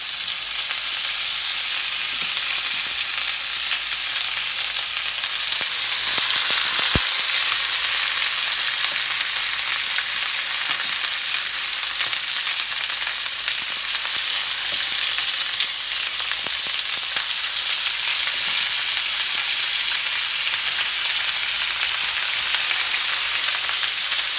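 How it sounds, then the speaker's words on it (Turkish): Marinated lamb ribs frying in a grill pan, a steady dense sizzle and crackle that holds unbroken throughout, close and fairly loud with no voices. "kuzu kaburga kızarttık. Izgara tava yaptık."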